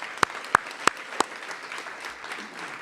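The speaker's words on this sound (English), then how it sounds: "So quick round of applause for our 3 new thought partners." Brief applause at an arts summit, a few sharp separate claps standing out near the start over a soft wash of crowd clapping that fades quickly.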